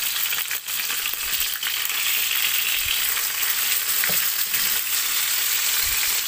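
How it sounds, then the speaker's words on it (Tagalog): Fish fries in hot oil in a pan, giving a steady, bright sizzle that crackles continuously, with a few soft clinks and pops near the end. "At piniprito ko na din yung isda guys."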